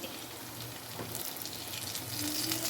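Chicken pakoda frying in oil makes a continuous bubbling sizzle that grows a little louder toward the end. A faint low hum sits underneath, and no one speaks.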